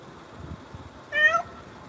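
A pet cat gives one clear, close meow of about half a second, rising and bending in pitch, against quiet room background with faint handling noise before it.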